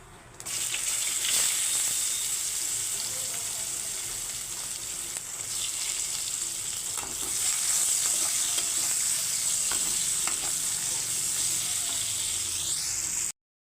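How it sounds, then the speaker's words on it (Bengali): Chopped onions and nigella seeds frying in hot oil, a loud continuous sizzle close by, with occasional stirring scrapes, ending abruptly. "পেঁয়াজগুলো লাল লাল করে ভাজা হয়ে গেছে"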